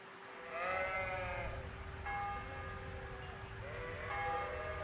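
Sheep in the medieval game Kingdom Come Deliverance bleat in three drawn-out, wavering calls spread across a few seconds, set against a steady low ambient hum.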